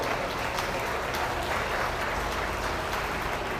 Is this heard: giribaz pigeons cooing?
no